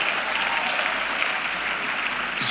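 Sustained applause from a church audience, dense and even clapping throughout with no voices over it, a brief rise at the end.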